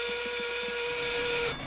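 The number 1 steam train pulls into the station, sounding a long, steady whistle over rhythmic chuffing and hissing steam, then the whistle cuts off.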